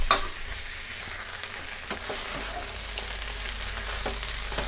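Cluster bean palya frying in a large pan until its moisture cooks off, a steady close sizzle broken by a few sharp spoon scrapes and taps.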